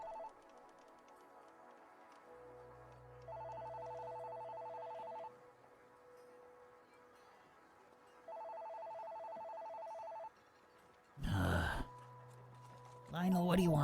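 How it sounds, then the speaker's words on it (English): A telephone rings in two long electronic bursts separated by a pause, fairly quiet behind a steady hum, followed by a couple of louder clattering noises near the end. "the phone starts ringing for you as well"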